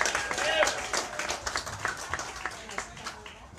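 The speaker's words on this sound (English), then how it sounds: "give yourselves a round of applause" An audience at a February open meeting claps in a scattered, fading round of applause, mixed with a voice speaking over it.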